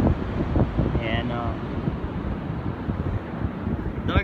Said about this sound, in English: it's windy like crazy. Look at that, and it's gusting